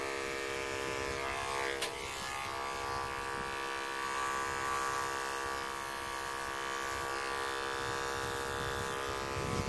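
Electric clippers run steadily on a dairy goat's hair during show clipping, a continuous close buzzing hum with harmonic whine and brief fluctuations as the blades move through the coat, no talking.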